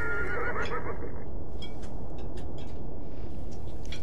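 Loud, close horse whinny from the video game Beyond Two Souls on a ranch, a shrill neigh in the first second followed by softer snorts and hoof-like clops.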